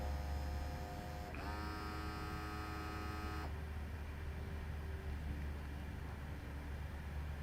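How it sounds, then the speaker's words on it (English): An FDM 6000 portable fuel dilution meter purges its inlet, a quiet electrical hum with a steady tonal whine that starts abruptly, holds for about two seconds and cuts off, leaving a softer fading drone. "So now it's purging so that it's ready for the next sample."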